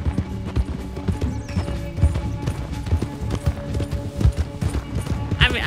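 Hoofbeats of a horse galloping in Red Dead Redemption 2, a steady rhythmic clip-clop kept up throughout under game ambience, with faint voices in the background.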